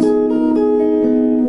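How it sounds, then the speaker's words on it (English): Jazz guitar sounding a single sustained altered dominant chord, the notes ringing steadily and close with no talking over them. "that's the sound of an altered dominant chord"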